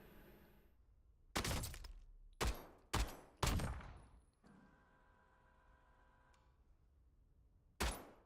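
Sharp gunshots ring out in the shooter game Warzone: a single crack, then three quick shots with a ringing decay, and one more shot after a pause, each punchy and close.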